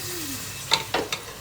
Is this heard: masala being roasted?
yes